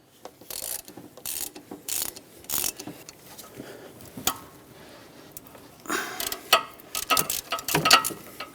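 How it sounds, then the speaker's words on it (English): A long 1/2-inch ratchet works tight 14mm starter bolts on a 2012-2017 Honda Accord, giving scattered clicking pawl bursts and metallic ticks, sparse at first and then quicker and louder near the end, with no voices. "I ended up using my long 1/2-inch ratchet to break those free because they were fairly tight."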